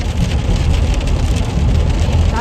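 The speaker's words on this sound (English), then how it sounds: "That rain is really coming down." Heavy rain pours down on a back porch, a steady dense roar of drops hitting surfaces that stays loud and even throughout with no voices.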